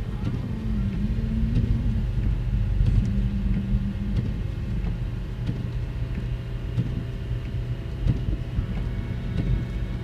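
A car engine rumbles low and steady in low gear as the vehicle creeps through a snowstorm in Isesaki, Gunma, without snow tires, with faint muffled voices now and then.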